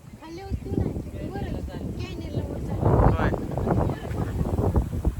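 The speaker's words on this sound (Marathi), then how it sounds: "भरपूर प्रमाणात वारा सुटलं" Strong wind buffets the microphone with a steady rumbling roar, gusting louder midway, while a voice speaks faintly underneath.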